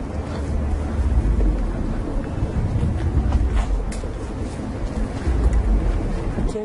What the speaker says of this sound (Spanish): Aquí se escucha como viento y agua.